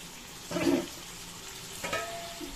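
Crab curry frying in a pan on a gas flame, gently stirred, heard as two soft scraping sweeps over a steady low sizzle, close and fairly quiet, with no talking.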